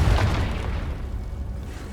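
Confringo blasting spell in Hogwarts Legacy, a single heavy explosion that hits at once and then rumbles and fades over about two seconds, with no talking.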